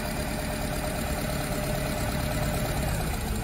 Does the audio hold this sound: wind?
no